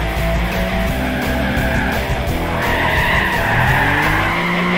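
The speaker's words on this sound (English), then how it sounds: "When drifting the cars on Gran Turismo Prologue, the techniques are actually very similar to real life, as you'd expect." Car tires squeal and skid steadily while drifting in the racing video game Gran Turismo Prologue, with engine noise underneath and a loud, sustained screech throughout and no speech.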